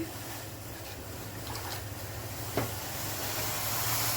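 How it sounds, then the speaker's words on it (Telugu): Ragi flour porridge with salt boiling in a pot, giving a steady, low-level hiss and bubble over a constant low hum, with one brief knock near the middle. "రాగి పిండి మరుగుతుందండి."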